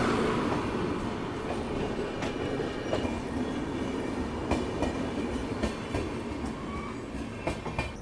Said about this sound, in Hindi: इधर से चेन्नई राजधानी स्किप कर रही है आरकेएमपी को